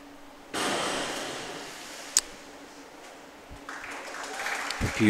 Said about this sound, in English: Gets a round of applause.